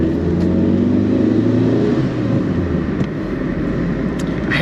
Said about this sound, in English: I hate that engine flare it does.